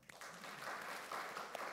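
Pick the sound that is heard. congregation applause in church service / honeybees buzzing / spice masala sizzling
congregation applause in church service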